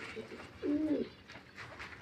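A single short homing pigeon coo, close and clear, rises briefly above quiet background noise.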